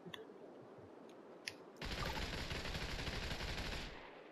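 Gunfire in a first-person shooter game. Faint clicks give way to a dense, continuous roar of rapid shots lasting about two seconds, close and loud, then a tail fading out.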